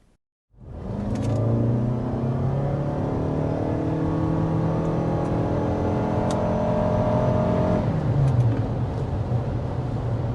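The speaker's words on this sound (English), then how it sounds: "the RAV4 is significantly quicker when accelerating" A 2024 Toyota RAV4 Hybrid XSE accelerating hard, its engine note rising steadily from a start into a sustained, loud drone with climbing harmonics, then easing slightly near the end; no talking.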